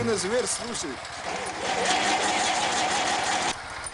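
A small 315 cc, 6.5 hp engine on a Neva MB-2K walk-behind tractor putters and revs with a rapid knocking rhythm, rising briefly before settling, while a voice talks over it.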